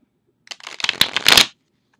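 A Golden Art Nouveau tarot deck is riffle-shuffled once, a quick rising flutter of crisp paper snaps about a second long, close up.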